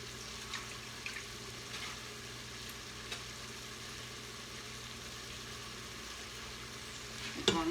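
Leeks saute in a pan for an Italian leek soup, giving a faint, even sizzle with a few light taps and a louder clatter at the very end.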